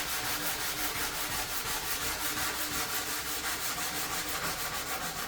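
An end panel being sanded with a hard sanding block in continuous, even back-and-forth strokes, a steady close gritty rubbing with a faint regular pulse and no speech.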